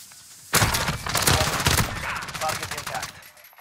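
Video game gunfire erupts suddenly after a quiet moment, a loud, close, rapid burst of automatic shots with echoing tails that keeps going for several seconds.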